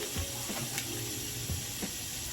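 Water from a bathroom tap runs steadily while it warms up for a morning skincare routine, a continuous close wash with faint clinks over it and no talk.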